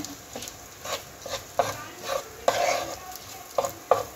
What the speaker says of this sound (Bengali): চালটা এর সঙ্গে ধীরে ধীরে ভেজে নিতে হবে।